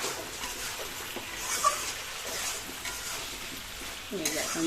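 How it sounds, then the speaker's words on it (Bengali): White eggplant sautéing in a pan, a steady sizzling hiss with occasional stirring scrapes throughout, moderately loud and close, faint voice-like sounds underneath. "এটা বেগুন দিয়ে কষিয়ে নেবো"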